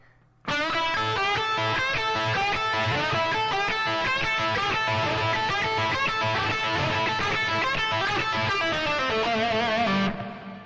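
A fast, distorted electric guitar lick, a rapid run of bent and picked notes played continuously for about ten seconds before ending abruptly.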